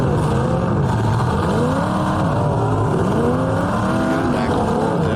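Demolition derby race cars in a pro division heat roar and rev continuously, engine pitch rising and falling in repeated sweeps, loud and close with crowd-like noise underneath.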